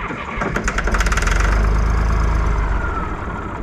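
A John Deere 350B crawler's diesel engine cranks and briefly catches, knocking and chugging loudly for a couple of seconds before the rhythm loosens and fades.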